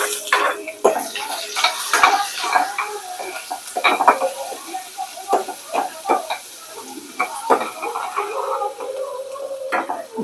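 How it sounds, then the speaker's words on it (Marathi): Onion drops into a pan of dry-roasted whole spices and sizzles, with repeated stirring scrapes and clinks against the pan in an uneven rhythm, close and fairly loud. "आता आपण याच्यामध्ये कांदा टाकून घेऊया."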